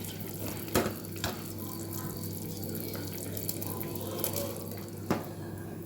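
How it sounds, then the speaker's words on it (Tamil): Water pours from a tap into a pot of drained rice for Chennai chicken biryani. It makes a steady, splashy running-water sound with a few louder drips and clunks, moderately close and without speech. "இப்போ பாருங்க தண்ணி ஊற்றியாச்சு."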